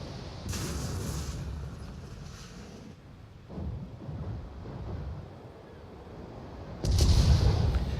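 Battleship gunfire in World of Warships, heavy muffled booms rolling in over a windy, sea-like background, with a louder blast near the end.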